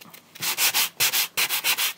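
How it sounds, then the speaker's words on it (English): Brisk back-and-forth strokes of a sanding block on painted wood, about ten scratchy rasps in quick rhythm, close and loud with no talk. "if you're going to give it a good old hit with a sanding block"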